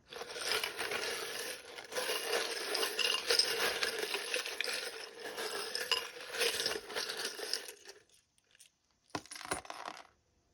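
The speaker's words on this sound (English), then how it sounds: "this can get a little bit loud when I'm shuffling" Continuous rattling and clinking of many small metal charms being shuffled, loud and busy for several seconds, then a few last clinks.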